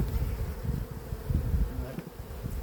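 Honeybees buzzing at an open hive while boxes are handled, a low, thick droning swarm close up with fluttering rises and dips in loudness and no speech.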